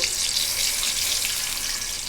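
Water poured into a pan of hot oil with onion paste sizzles as a steady, loud, bright hiss, close up and alone for about two seconds.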